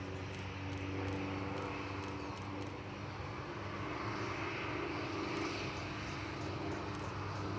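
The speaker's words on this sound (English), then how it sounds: "Just in time for this Qantas 737." Qantas Boeing 737 airliner at Gold Coast Airport, its jet engines giving a loud, steady roar that fills the scene with no pause or break.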